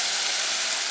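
Steady frying sizzle of crushed tomatoes tipped into a pan of cooking onion and minced garlic, a continuous close hiss with no voices.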